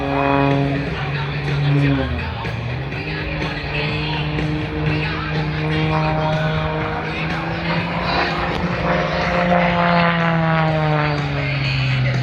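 An aerobatic propeller plane flying a double hammerhead at the MCAS Beaufort airshow, its engine droning and rising and falling in pitch as it climbs, pivots and dives, with a commentator talking over it throughout.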